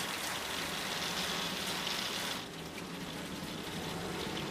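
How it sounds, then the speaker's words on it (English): Hail rendered as a rain-like sound effect in a horror film score gives a dense, steady patter and hiss that continues without a break and eases slightly partway through. "it starts to calm into a rain-like sound, but still there's something clearly not right about the sound"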